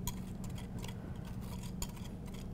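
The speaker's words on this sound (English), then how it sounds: "in this bowl we have melted butter and sugar. There's 3 tablespoons of sugar and 2 tablespoons of butter. So we're just going to mix this in" Butter and sugar stirred together in a bowl, producing faint, irregular scraping and tapping clicks against the bowl at a steady low level, with no voices.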